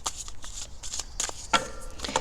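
Tarot cards being shuffled and laid out on a table, a run of crisp riffling and papery slaps coming in close, uneven bursts with no talking.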